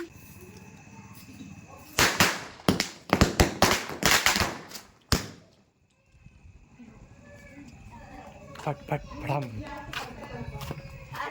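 A rapid burst of sharp cracking bangs from a string of firecrackers at Diwali, loud and close, runs for a few seconds, then stops, followed by quieter background chatter and noise.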